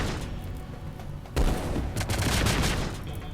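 Gunfire from colonists in the video game RimWorld, a dense fusillade of rapid shots that swells louder around the middle and keeps crackling steadily to the end, with no talking over it.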